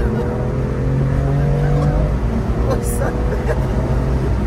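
A BMW M2 Competition engine drones and revs up with rising pitch, loud and close, then settles, while people speak over it.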